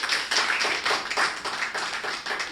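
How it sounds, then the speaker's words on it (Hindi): Audience clapping in strong bursts welcoming a poet at a Hindi poetry gathering, close and fairly loud, alone without talk. "मेरे स्वागत में दोबारा जोरदार तालियां बजाएं"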